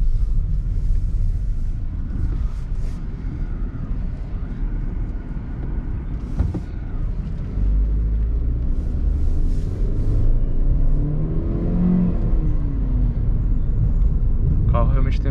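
Heard from inside the cabin, a 2020 Chery Arrizo 6 accelerates on a road, its low engine rumble and road noise steady and then rising in pitch. A person talks over it throughout.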